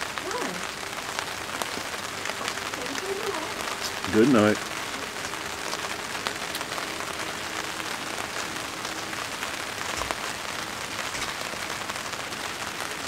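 Rain falls on a WEKA 2 tent tarp at a backyard camp, a steady dense patter throughout, with brief nearby voices talking over it.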